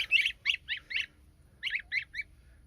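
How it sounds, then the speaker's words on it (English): Baby goslings on a homestead peep in quick rhythmic bursts, two clusters of four high, shrill calls separated by a short pause, close and clear over a quiet low rumble. "And here's the little goslings."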